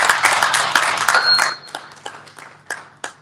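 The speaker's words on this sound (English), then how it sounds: "please put a big round of applause for that" Audience applause at an educational equity and AI presentation, a burst of clapping that holds steady for about a second and a half, then thins into scattered individual claps before fading out.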